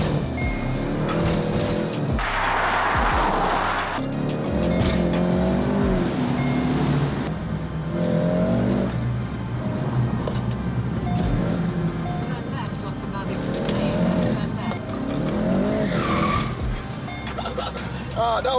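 A VW Golf GTI MK7.5 launches hard, tyres squealing over a loud engine roar through rapid gear changes, heard from inside the car with excited voices over it.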